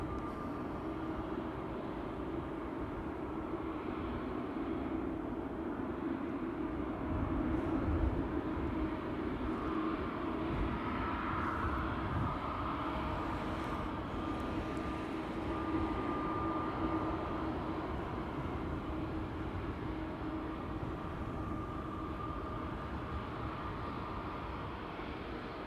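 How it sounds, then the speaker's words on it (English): A KLM Airbus A321neo airliner departing Amsterdam Schiphol Airport for Berlin, a steady broad jet roar that holds at a constant level for the whole stretch, slightly swelling midway, with no talking. "Next up is an A321neo to Berlin"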